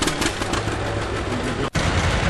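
Vintage John Deere tractor pulling a sled at a tractor pull event, its engine loud and near with a rough, pulsing roar that holds steady apart from one sharp brief dropout.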